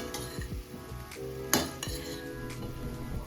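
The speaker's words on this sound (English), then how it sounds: "as the okra sizzle, you will want to give it a toss" Okra crackles softly in a pan while a utensil scrapes and clinks against the metal, with one sharp clank partway through as it is tossed.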